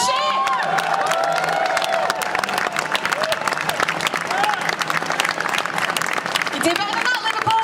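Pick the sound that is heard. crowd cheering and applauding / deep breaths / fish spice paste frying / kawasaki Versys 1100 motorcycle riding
crowd cheering and applauding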